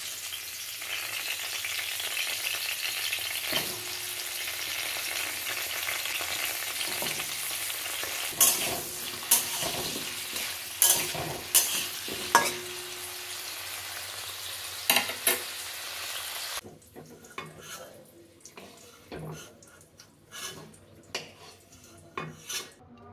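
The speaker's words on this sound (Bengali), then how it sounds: "প্রথম কাজ আমার কড়াইতে তেল গরম করতে দিয়ে দিয়েছি।" Vegetables frying in hot oil in a wok (kadai) for a cabbage curry, with loud continuous sizzling and repeated scraping stirs of a metal spatula; the sizzle drops away near the end, leaving sparse clinks and scrapes.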